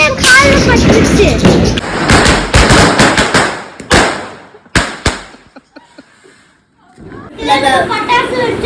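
Diwali firecrackers burst in a rapid string of sharp, loud cracks and thumps, then thin out into a few scattered pops before family voices return.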